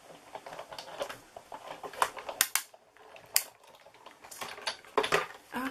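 Scissors snipping through vellum paper for a handmade card, a series of quick crisp cuts and light papery clicks with some handling noise between them.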